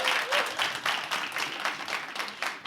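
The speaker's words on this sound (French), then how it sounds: "Allez, applaudissez Sitou." A smaller crowd at a student cultural event claps in a moderately quiet, uneven patter with distinct bursts, applauding a named student organiser.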